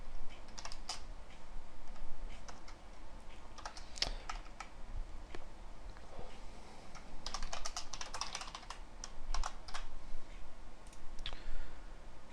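Close typing on a computer keyboard while code is entered, with irregular clusters of sharp key clicks and short pauses between bursts.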